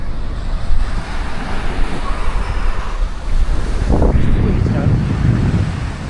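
Surf rolling onto a wide beach at Playacar, Playa del Carmen, with steady wind buffeting the microphone, a continuous loud wash that swells near the end.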